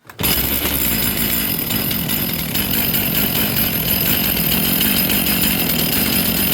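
A chainsaw engine runs at full choke while warming up, a loud, continuous rough roar that starts abruptly and holds steady close by.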